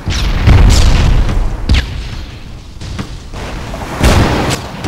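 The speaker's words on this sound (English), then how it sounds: "Get on the back cannons and shoot the Fremen Knights." Ship cannons firing at sea in Darkfall, a series of heavy booms at irregular intervals, some close and loud, others fainter, over a rumbling background.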